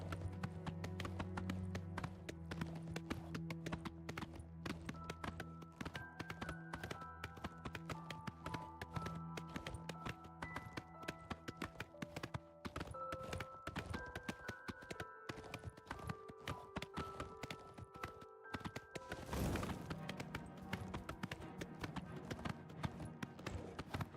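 Horse hooves clip-clop in a steady galloping rhythm while riding through Oblivion Remastered, running continuously over game music and ambience, with a brief louder burst near the end.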